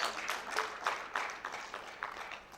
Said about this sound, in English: So a round of applause for our friends in the police force.